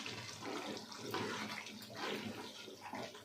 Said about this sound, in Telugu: ఇప్పుడు మంట హైలో పెట్టేసి పొయ్యి కొంచెం వాటర్ పోసుకుంటున్నాము